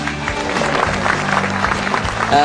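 A stand-up comedy audience at a Metro TV show in Indonesia applauds in a continuous burst of clapping, with a faint tonal backing sound underneath, running at steady loudness for the short stretch.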